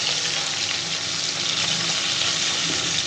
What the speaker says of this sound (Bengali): একটু এর পাশে একটু ভাজা করে